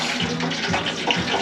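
Garlic, plantains and onion frying in a fryer during a traditional mole cooking class in Puebla, Mexico; a loud, continuous close-up hiss and crackle of hot oil.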